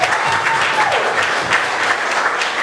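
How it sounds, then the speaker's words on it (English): A crowd at a hip hop history tribute event applauds in a brief, dense burst of clapping that holds steady for the whole moment. "He needs to get a round of applause right now."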